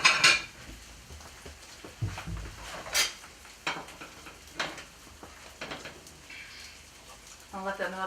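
Plates and dishes clatter and clink in a home kitchen while food fries, a scatter of sharp ceramic knocks and scrapes spread across the moment, with faint background sounds between them.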